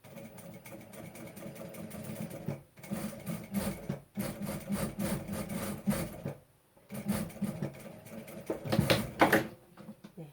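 A sewing machine topstitches a seam along the folded edge of a vest at a long stitch length, its motor running in steady whirring bursts with brief pauses between runs; no one speaks.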